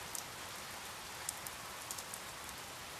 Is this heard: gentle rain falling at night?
yes